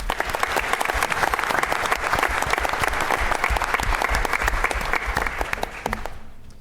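A board of education meeting audience gives sustained, dense applause for honored softball players, a loud even wash of clapping that fades out at the end.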